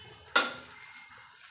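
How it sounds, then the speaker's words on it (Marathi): A single clatter of a metal spatula scraping on a tawa while Mumbai-style masala pav is mixed, one sharp onset that fades into a low sizzle. "चला तर मग ह्याप्रमाणे छान मिक्स करून घेऊया।"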